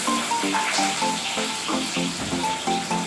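Chow mein with onion, potato and peas sizzling in a pan, a steady crackling fry with light clinks of stirring mixed in, close and moderately loud.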